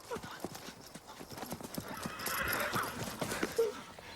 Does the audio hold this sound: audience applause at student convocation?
no